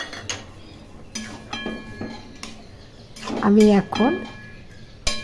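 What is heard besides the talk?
stirring poppy seed paste with vegetables in a pan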